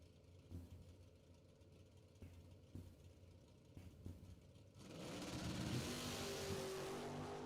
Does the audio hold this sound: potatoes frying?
no